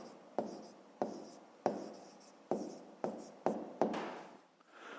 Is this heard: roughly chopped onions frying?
no